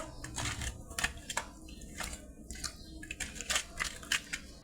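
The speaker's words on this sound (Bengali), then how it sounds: "হলুদ গুঁড়ো দিয়ে দেবো, পরিমাণ মতো লবণ, মাছটা মেখে নেব" Hands squish and pat five pieces of pangas fish coated with turmeric powder and salt, a close run of irregular wet slaps and crackly rubs with a faint voice underneath.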